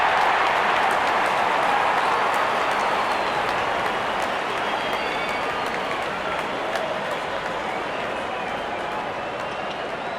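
A cricket stadium crowd at a T20 World Cup match between Pakistan and Zimbabwe cheers as the openers walk in, a broad continuous roar that fades slightly over ten seconds.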